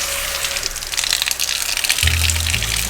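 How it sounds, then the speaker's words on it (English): Water gushes from a waterfall-style spout into a hotel sink, a close, steady splashing rush that grows fuller and deeper partway through, with no voices. "the waterfall sound that they've built into the sink"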